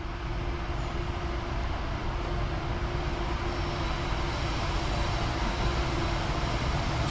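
CSX freight train M409 passing westbound beside a stopped Norfolk Southern train, a loud, steady engine drone and rumble with a sustained tonal hum that continues without a break.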